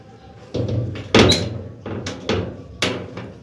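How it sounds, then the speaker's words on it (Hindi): A home door is pushed shut and locked, giving several thuds and clunks with a louder bang near the middle, heard close over a low indoor hum. "दरवाज़ा लॉक कर दूँ?"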